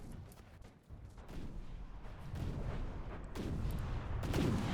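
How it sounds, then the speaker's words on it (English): Main guns of a battleship fire in a naval video game, a series of heavy booming blasts with rolling low rumble, moderately distant and overlapping, building louder toward the end. "there's the main gun from the front"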